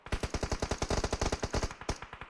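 Rapid automatic gunfire in PUBG Mobile during a tournament match, a steady burst of about twenty evenly spaced loud shots with a brief gap near the end, and no talking.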